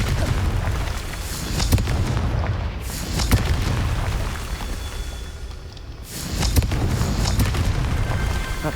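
Repeated Confringo blasting-spell explosions from the Hogwarts Legacy video game boom out in loud bursts, with sustained rumbling between them and no talking.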